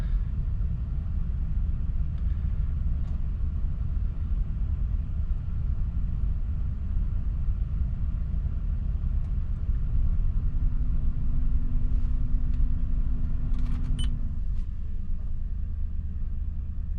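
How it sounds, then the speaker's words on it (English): A 2005 Toyota Land Cruiser engine idles after a cold start, a steady, close, low rumble that holds even throughout, with a faint whine rising briefly in the middle. "The starter will continue to turn until the engine fires."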